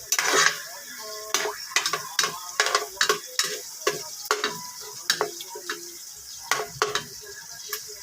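Chopped onion and garlic sautéing in a pan for pork kaldereta: a low sizzle broken by repeated sharp scrapes and clinks of a utensil stirring against the pan, steady and close.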